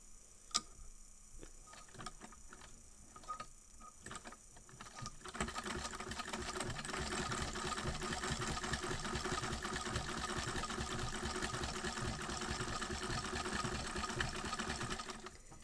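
A Singer sewing machine fitted with a non-cam zigzag attachment (No. 160620) stitching a wide zigzag, a few ticking starts then a close, steady rapid mechanical chatter that runs continuously to the end.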